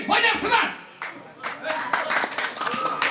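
An audience claps hands during a Balinese clekontong mas comedy performance in Mengwi, bursts of clapping rising and falling amid talking and crowd noise.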